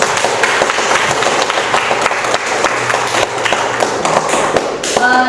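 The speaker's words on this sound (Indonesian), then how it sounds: "Tepuk tangan untuk semua kelompok." A classroom audience claps for student presentation groups during a biology teaching assessment, a steady, dense patter of hand claps filling the room throughout with faint voices underneath.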